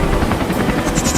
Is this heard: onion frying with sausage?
no